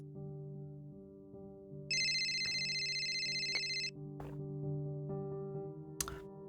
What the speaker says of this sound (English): Jet, my phone is ringing.